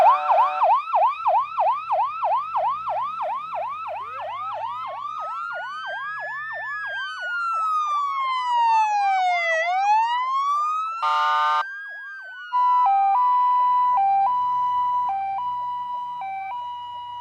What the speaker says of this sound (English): That middle siren, was that a fire engine?